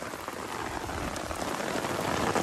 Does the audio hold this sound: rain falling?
yes